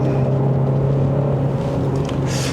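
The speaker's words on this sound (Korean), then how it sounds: "엔진 사운드는 아주 매끄럽진 않아요" A Kia Sportage 1.6 turbo 2WD on the move gives a steady, slightly rough, gravelly engine drone with a strong low hum, loud and continuous, with no speech over it.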